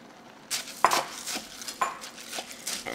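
Dry macaroni stirred in a pot, giving a close series of rattling, scraping strokes as the pasta shifts against the metal, uneven in rhythm with a few sharper clinks; no one speaks.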